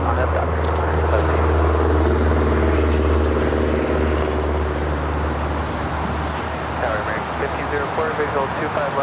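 An airliner at LAX powers up for takeoff on runway 25 right, a loud, steady engine roar that slowly eases, with voices talking over it.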